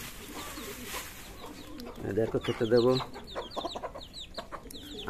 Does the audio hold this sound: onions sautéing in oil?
no